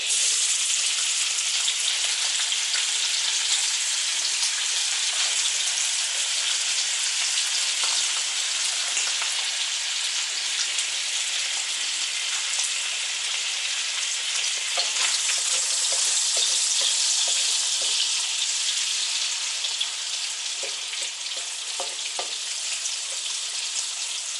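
Chinese sausage frying in a pan for pancit noodles, a loud dense rain-like sizzle running steadily from start to end with faint stirring crackles, close and with no talking.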